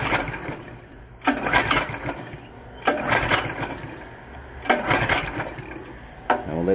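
A pressure washer engine that is locked up is pull-started again and again with its recoil starter. About five sharp rasping pulls come at fairly even intervals, each fading before the next, and the engine never catches.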